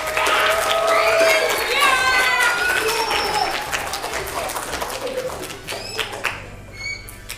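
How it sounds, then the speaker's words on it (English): A vacation Bible school audience breaks into a loud round of applause mixed with excited shouts and squeals from children, dense clapping that gradually thins out toward the end. "Let's get a round of applause."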